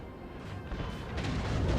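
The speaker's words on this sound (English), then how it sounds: "with that we can have these guns open up" Napoleonic artillery guns in Napoleon Total War open up as a dense, continuous rumble of distant cannon fire and crashing impacts, with no talking.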